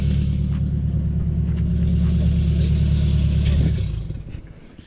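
A modified Ford Fiesta ST holds a loud, deep, rumbling rev close by, then the engine note drops off sharply near the end as the throttle closes.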